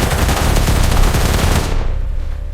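Sustained burst of rapid gunfire, loud and close, firing continuously for nearly two seconds before cutting off into a fading tail.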